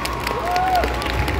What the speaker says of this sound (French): On peut les applaudir un peu plus fort que ça, s'il vous plaît